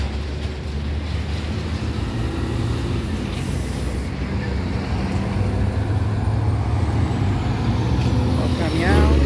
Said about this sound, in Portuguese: O caminhão.